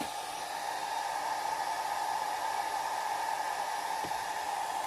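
A heat tool blows on an alcohol ink painting at high heat and low volume, giving a steady, close, unbroken airy whoosh with a faint whine and no talking.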